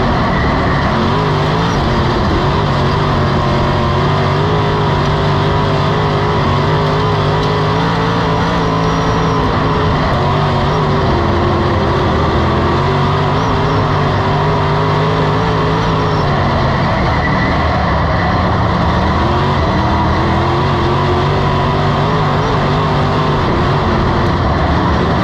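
Race car engines roar continuously through a 30-lap dirt-track-style feature race, a dense, loud drone with rising and falling pitch as cars circle and pass, no talk.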